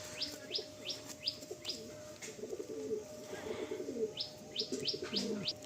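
A Madrasi pigeon cooing in soft, low repeated calls, joined by sharp chirps from other birds, all fairly faint and close with a faint background hum.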